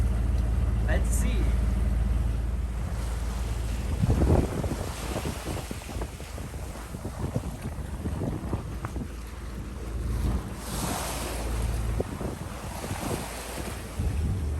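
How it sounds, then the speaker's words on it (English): Strong wind buffets the microphone while a sailboat pushes through rough ocean waves ahead of an approaching squall, with steady roaring gusts and repeated water splashes and surges under speech. "Wind is going up a bit because there's a squall coming again."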